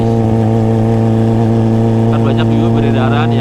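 A Kawasaki Ninja ZX25R fitted with a LeoVince LV10 exhaust idles loud and close with a steady, smooth, high-pitched drone, while fainter higher sounds flicker over it toward the end.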